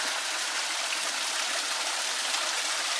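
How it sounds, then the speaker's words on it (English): Small waterfall fed by a natural spring in Tenerife, giving a steady, close hiss of falling and splashing water that holds an even level throughout, without any talking. "This is a natural spring coming down from up above."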